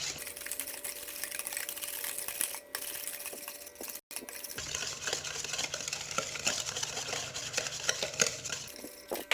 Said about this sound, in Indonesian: kocok pakai whisker sampai gulanya larut dan warnanya pucat